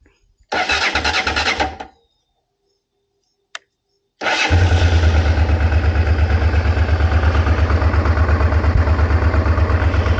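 A 1989 Honda Transalp motorcycle engine cranks briefly, cuts out, then starts and settles into a loud, close, uneven rough idle with a pulsing, lumpy rhythm, during carburetor work.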